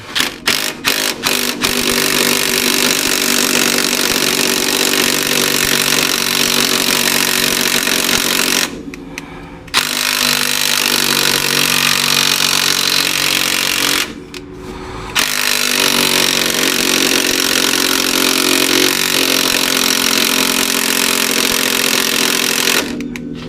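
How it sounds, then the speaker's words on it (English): An impact wrench tightens rear suspension bolts on a 1997 Honda Civic, loud and close, hammering in long sustained bursts with two brief pauses between runs and no talk. "I'm just going to take my impact and let's tighten."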